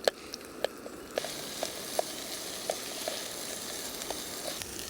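Onions fry in a pan on a Jetboil TrailCook gas stove, giving a soft steady sizzle with scattered light pops and taps, fairly close and quiet.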